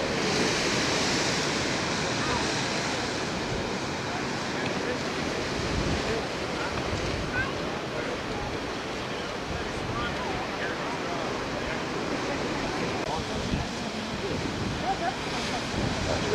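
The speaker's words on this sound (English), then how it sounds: "What happens is the way the waves come in, shoots the water straight up." Ocean waves surge against a blowhole on the Oahu coast, forcing water straight up in a steady, loud rushing roar with heavy wind buffeting throughout.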